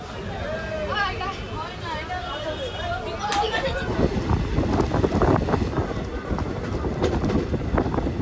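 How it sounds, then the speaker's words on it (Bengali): A passenger train rumbles steadily along from Krishnanagar toward Azimganj, with wind buffeting the microphone; voices and chatter are heard faintly through the first few seconds. "ট্রেন আমাদের কৃষ্ণনগর স্টেশন ছেড়ে আজিমগঞ্জের উদ্দেশ্যে রওনা হলো।"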